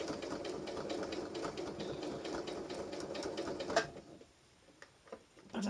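An industrial sewing machine runs its needle at high speed, a fast steady mechanical chatter close by that cuts off near the end, leaving quiet with a few faint knocks before it starts up again.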